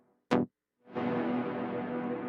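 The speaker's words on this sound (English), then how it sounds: "Nice long reverb, okay." A short synth stab is followed by a sustained synth tone with a long dub reverb tail, clean and close, with no talk.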